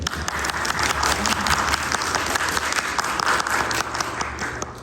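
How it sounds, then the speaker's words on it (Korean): Church congregation applauding during a Korean Christmas Sunday service, a full, steady wash of clapping from many hands that holds loud throughout. "여러분 박수 한번"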